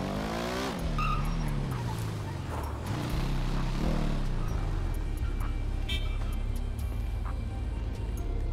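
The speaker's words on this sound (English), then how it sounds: "Y'all heard them tire screeches?" Car tires screech in a city driving video game, a rising and falling squeal over a loud engine roar that settles into steady motoring, with a faint horn-like toot later on.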